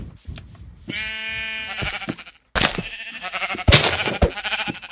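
Sheep bleating in Minecraft, two loud wavering bleats separated by a short gap, the second harsher and followed by shorter bleats, clear and close with no talking.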